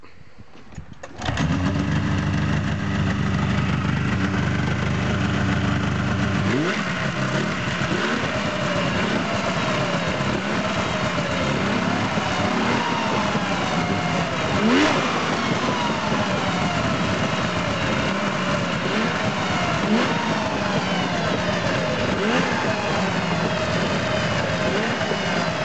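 A 2002 Yamaha SX Viper 700 snowmobile two-stroke engine fires up and keeps running loudly and steadily at close range, its pitch wavering slightly as it settles toward idle, with no voices.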